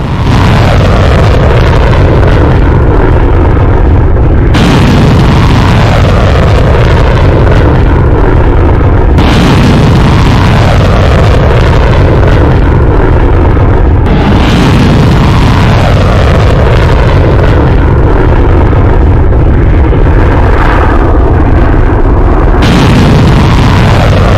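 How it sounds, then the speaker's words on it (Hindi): Iranian ballistic missiles exploding over Israel: loud, heavy booms and rumbling blasts recur about every four to five seconds over a sustained roar, with no talk. "ईरान एक के बाद एक बैलिस्टिक मिसाइल से अटैक कर रहा है इजराइल पर।"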